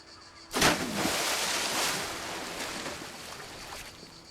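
Sea waves wash onto a summer beach at Gruissan, a sudden surge of surf rushing in close, then a broad, steady hiss of water churning and receding.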